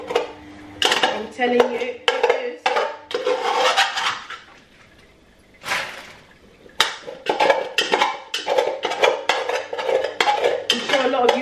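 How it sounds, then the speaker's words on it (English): A cooking pot used for jollof rice is scrubbed and washed, giving repeated loud scraping and clattering strokes in bursts with a short pause, while someone talks briefly over it. "The worst part about making jollof rice is washing the pot afterwards."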